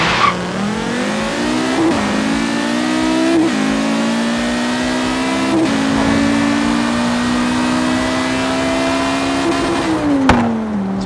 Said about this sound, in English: Now I'm gonna launch this at 5.